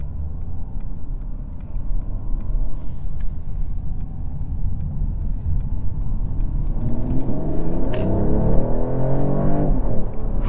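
A 2024 Mercedes CLE450 4matic accelerates hard from inside the cabin, its engine note building steadily and rising through the revs over about ten seconds, loud and continuous with no talking.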